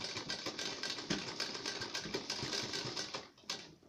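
A sewing machine runs steadily as it stitches a collar strip (patti) onto a kurti neckline. It makes a close, fast, continuous rattling hum that eases off briefly near the end.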